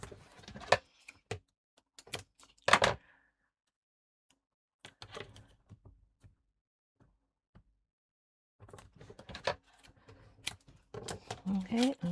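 Paper being trimmed with scissors for a handmade mini album, a scattering of crisp close snips and taps separated by long quiet gaps, with a stretch of quiet talk mixed in.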